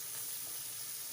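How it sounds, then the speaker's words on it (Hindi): Masala spices frying in a pan give off a faint, steady sizzle with a soft hiss throughout, with no talking over it. "अब इसे हम अच्छी तरह से भून लेंगे मसाले को"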